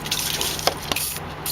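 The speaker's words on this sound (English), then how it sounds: "I like to use WD-40 just to make sure" Short hissing spray of WD-40 onto rusty screws, a soft close burst with a couple of sharper spurts over steady background hiss.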